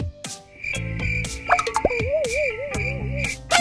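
The Nightmare CatNap monster sound from Poppy Playtime: a synthetic mix of croak-like bursts and plopping hits over a sustained high tone, with a warbling, wavering whistle in the middle.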